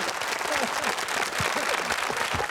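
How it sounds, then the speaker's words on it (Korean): Soldiers in an army barracks applaud together, a dense burst of clapping that fills the whole short stretch at steady loudness, with some voices mixed into the noise. "박수."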